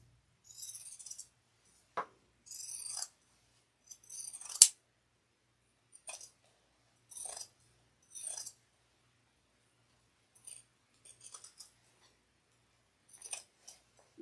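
Scissors trimming around the edge of a fabric holiday stocking in a sewing room, a run of short, crisp snipping bursts spaced a second or two apart, close and fairly quiet with no talking.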